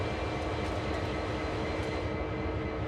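A CSX locomotive in Train Sim World rolls onto a turntable, giving a steady, loud, close diesel rumble with a constant mechanical drone throughout and no talk.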